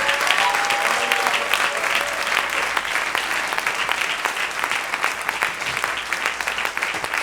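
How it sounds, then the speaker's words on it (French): Sustained audience applause from a church congregation, dense and steady clapping throughout, fairly loud and close, with no speech over it. "tu peux donner une bonne main d'acclamation"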